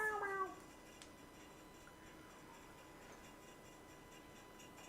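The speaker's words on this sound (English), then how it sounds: "Do you hear my kitty cat out there?" A short meow sounds at the start, fairly faint and a little distant, followed by quiet room ambience with faint ticking.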